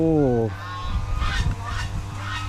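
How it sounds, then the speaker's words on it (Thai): Geese honk on a mixed farm with banana and papaya plantings, a few calls sounding outdoors after a brief sustained tonal sound at the start, with no talk over them. "โอ้ได้ยินเสียงห่านไกลๆ"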